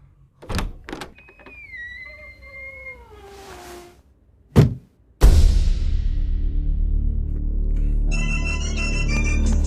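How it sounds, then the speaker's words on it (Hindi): A telephone rings in a scene from a Hindi-dubbed South Indian action film. Sharp knocks and a gliding, meow-like cry come first, then a loud rumbling surge, and a bright warbling ringtone pattern emerges near the end. No one speaks. "तेरे दरवाजा खोलते ही फोन की घंटी बजेगी"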